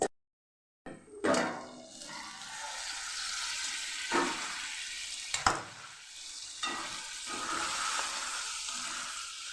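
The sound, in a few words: okra and tomato curry cooking in a covered pan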